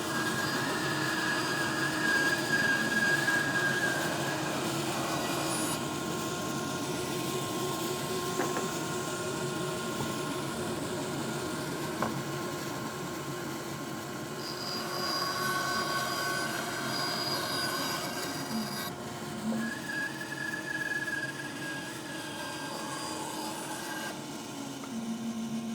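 A woodshop saw cutting wood for a weather vane, a steady whirring drone that holds through the cut and then winds down as the blade coasts toward a stop, with no talk.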